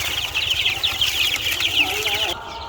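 Laying hens cluck and chirp steadily on a rooftop, a busy, close, continuous chatter of calls that cuts off abruptly near the end.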